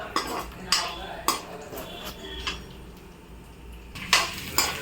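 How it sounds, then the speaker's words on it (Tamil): Toor dal is roasted in oil in a pan, heard as a gentle background sizzle broken by repeated clinks and scrapes of a spoon against the metal pan, close and moderately loud. "இப்போது தோரம்பருப்பை வந்துட்டு நல்லா எண்ணெயை விட்டு வறுத்துட்ருக்கோம்"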